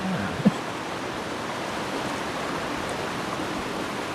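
Waterfall in the life-simulation game The Sims 3, a steady, even rushing wash of falling water that stays constant throughout, fairly loud, with no talk.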